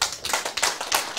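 Brief, lively clapping from a seminar audience at an opening address, a quick patter of many hands lasting about a second.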